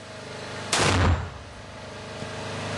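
A 120mm mortar crew fires a single round: one loud, close blast with a deep thump, then a short decaying rumble over steady background noise.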